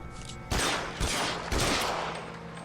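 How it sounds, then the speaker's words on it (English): Gunfire in L.A. Noire: three loud, sharp shots at roughly half-second intervals, each bursting across the whole range and ringing out briefly, with faint background game ambience before the first blast. "I just shot that man's hat off."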